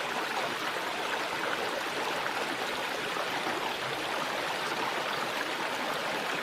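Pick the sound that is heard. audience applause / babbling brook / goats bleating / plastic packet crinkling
babbling brook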